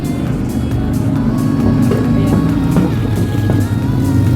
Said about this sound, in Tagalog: nung motor na yun, napakaingay ba?